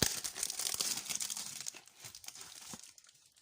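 Close crinkling and tearing of cardboard and packaging while opening a small Mystery Minis Little Mermaid toy box, a dense run of small crackles that gradually thins out.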